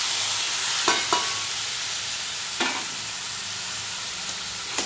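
Boiled taro leaves (kochu shak) sizzle in a pan with a steady frying hiss, broken by a few soft scrapes and clinks as a spatula stirs them.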